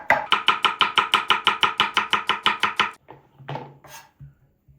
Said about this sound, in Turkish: Soğanlarımızı ince doğruyoruz.